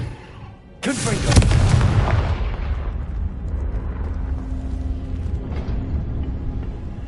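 Confringo blasting spell in Hogwarts Legacy erupts in a sudden loud explosive burst, then a rumbling roar and lingering crackle that slowly fades, with game music and effects underneath.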